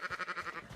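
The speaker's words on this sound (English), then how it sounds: "looks like there are sheep over there, and there are cows as well" A sheep bleats in Red Dead Redemption 2, a single quavering, fluttering cry close by, heard alone and briefly.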